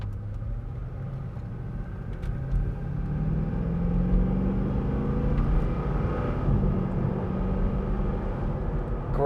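A 2007 Chevrolet Corvette 3LT accelerates, heard from inside as a steady low engine rumble whose pitch climbs and sweeps upward over several seconds, with no talking.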